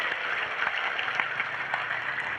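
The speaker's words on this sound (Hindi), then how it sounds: "हमारे संजय जी महाराज का भी एक बार जोरदार ताली से स्वागत करें।" A gathering at a Hindu religious discourse in Purnia applauds to welcome Sanjay ji Maharaj, a soft, diffuse wash of clapping heard from a distance, steady for a couple of seconds.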